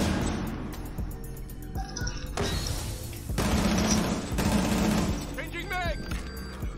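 A flashbang grenade goes off in a Rainbow Six custom 2 versus 2 match, a sharp broadband burst mixed with gunfire-like cracks and rumbling booms, heard under steady excited voices talking over each other.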